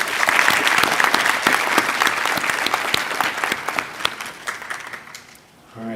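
Audience at a digital academy graduation ceremony clapping in a dense, steady burst of applause that thins out and fades toward the end, with a brief voice at the close.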